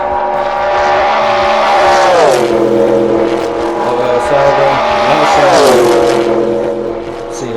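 Loud race car engines in the video game Assetto Corsa roar past one after another, their pitch climbing and sweeping down as they go by, close and continuous with no pauses.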